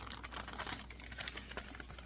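A small plastic drawstring bag printed with daisies crinkles and crackles continuously as it is handled up close, with no one speaking.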